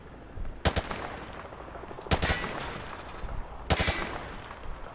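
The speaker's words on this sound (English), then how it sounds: "Grab that weapon off the table and fire at the targets behind you." A rifle fires at range targets in Call of Duty Modern Warfare 2, three separate sharp bursts of close, loud gunshots spaced over background ambience.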